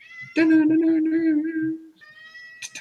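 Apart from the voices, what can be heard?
cat meowing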